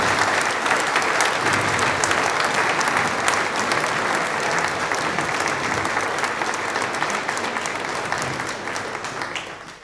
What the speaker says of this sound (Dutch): Ik wil ze niet laten gaan zonder dat u dat met een warm applaus hebt onderstreept.